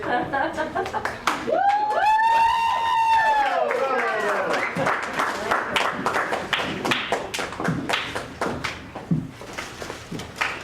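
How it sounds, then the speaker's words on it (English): A comedy show crowd claps and taps in scattered bursts while a voice sings or calls out over the start, the clapping thinning into uneven individual claps toward the end. "give them another round of applause"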